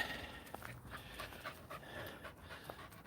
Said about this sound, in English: I'm puffing and panting.